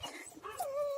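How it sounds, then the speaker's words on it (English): Dogs making short, close yips and whimpers in a backyard garden, giving a brief, fairly faint burst of whiny canine sounds. "Sorry for the dogs barking."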